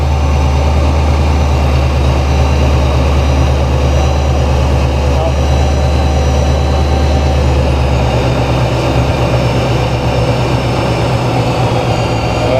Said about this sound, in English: Oh, now fan's back on.